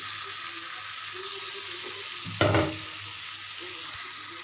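Spice paste of turmeric, chili, salt, cumin and coriander frying in a hot pan for a Bangladeshi pabda fish and tomato curry, a steady close sizzle with a brief louder stir or splash midway.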